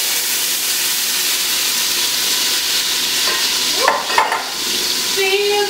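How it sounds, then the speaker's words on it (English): Garlic dropped into hot oil while making mais moulin sets off a loud, dense, hissing sizzle that runs the whole time, with a brief clatter of stirring near the end. No speech. "I'm going to add my garlic."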